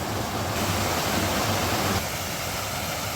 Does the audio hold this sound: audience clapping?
no